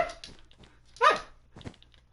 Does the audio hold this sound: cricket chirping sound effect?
no